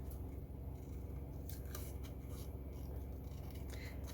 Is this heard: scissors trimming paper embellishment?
yes